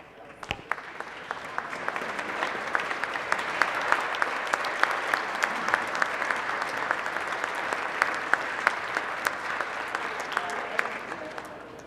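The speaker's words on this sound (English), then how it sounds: "So give them a round of applause." A state-level mock trial team from Watertown gets sustained applause on a legislative House floor, a dense, steady wash of many hands clapping that swells and holds for about twelve seconds.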